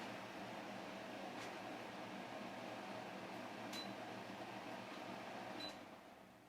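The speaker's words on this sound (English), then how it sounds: "now I feel like turning off the air conditioner" A room air conditioner runs with a steady, faint broadband hum and hiss and a couple of tiny ticks, then the sound tapers off at the end.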